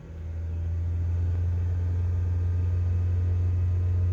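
Acura TSX engine heard from inside the car as it accelerates, a steady low droning hum that swells slightly at first and then holds at an even level, with no talking.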